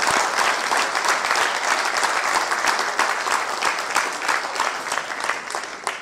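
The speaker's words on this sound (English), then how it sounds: "I think they deserve a big round of applause" Sustained, loud applause from a banquet audience at an evening gala in Dubai, honoring family members in attendance; dense clapping fills the whole stretch, easing slightly toward the end.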